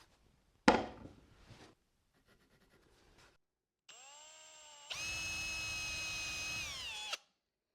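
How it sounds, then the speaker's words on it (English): Power drill boring holes in plywood pieces, starting with a sharp knock and brief rough grinding, then a pause, then the motor whining up and running at a high steady pitch before cutting off, close and fairly quiet. "Now I'll drill a hole roughly in the center of each one of these pieces of plywood."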